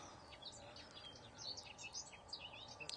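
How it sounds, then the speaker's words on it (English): Many small birds chirp and trill in a steady, overlapping chorus near an airfield, fairly soft but continuous with no talking. "Wow, them birds are so loud."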